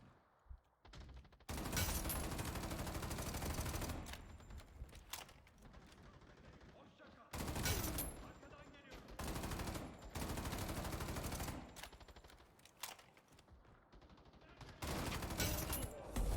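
Sustained bursts of automatic gunfire from a popular Asian first-person shooter game, long dense fusillades alternating with brief pauses, loud and close.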